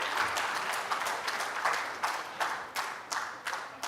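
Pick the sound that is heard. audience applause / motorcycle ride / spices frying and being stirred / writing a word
audience applause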